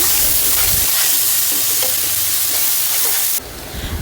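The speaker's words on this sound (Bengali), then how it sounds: "একটু কিছুক্ষণ নেড়ে চেড়ে ভেজে নেব ভালোভাবে, যাতে কাঁচা গন্ধটা না থাকে।" Onion paste with cardamom, cinnamon and bay leaf stir-fries in a pan, a loud, close sizzle with repeated scraping stirs, then the hiss abruptly drops lower near the end.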